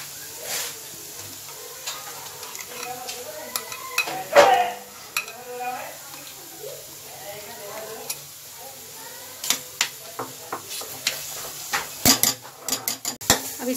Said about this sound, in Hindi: इनको हम थोड़ा सा भून लेंगे।